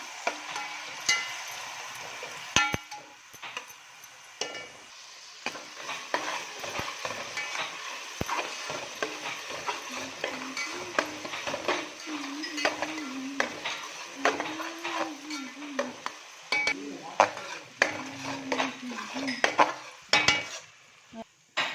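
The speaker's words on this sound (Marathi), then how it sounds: "टोमॅटो व्यवस्थित परतून घ्यायचा आहे" Tomato sautéing in a pan for a garlic-based mutton liver gravy sizzles softly while a spatula scrapes and clinks against the metal in irregular strokes, with quieter stretches between bursts of stirring.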